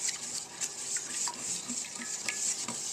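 Yule log cake batter of sugar, flour and baking powder being stirred by hand in a bowl, with steady scraping and swishing strokes close up and no talking.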